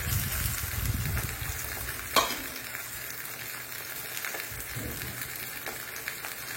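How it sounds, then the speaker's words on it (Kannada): Mackerel coated in coriander masala fries in a pan over medium heat, with a continuous close sizzle, one sharper crackle or stir partway through, and no talking. "ಹೀಗೆ ಒಂದು 5 ನಿಮಿಷಗಳ ಕಾಲ ಮಧ್ಯಮ ಉರಿಯಲ್ಲಿ ನಾವು ಇದನ್ನು ಬೇಯಿಸಿಕೊಳ್ಳೋಣ"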